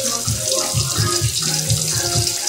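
Water from a kitchen tap runs continuously while a pepper is rinsed under it, splashing steadily with soft thumps of handling beneath.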